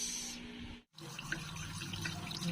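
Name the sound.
washing sweet potato leaves under running tap water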